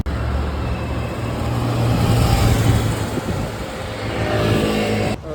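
A Porsche GT4 RS passes on a street in Monaco, its engine note building to a loud close peak midway and then fading, over steady background traffic noise.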